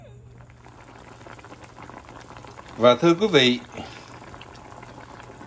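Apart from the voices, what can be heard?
pot of chicken pho broth boiling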